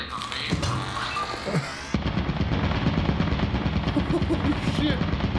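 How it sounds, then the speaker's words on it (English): An automated turret in Lethal Company opens up in a mansion's main room, loud rapid continuous fire for several seconds after a brief lead-in with voices. "there is a turret in the main room"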